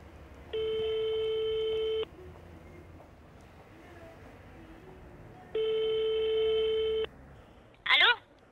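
Two long, steady telephone ringback tones sound over a line while calling a number back, each lasting about a second and a half with a gap between, followed by a brief voice at the end.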